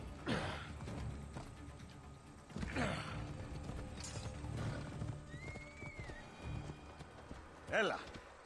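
Horses in Assassin's Creed Odyssey clop and snort with whinnies in bursts, several loud neighs spaced through the stretch, mixed with hoof beats and a rising whistle-like tone midway.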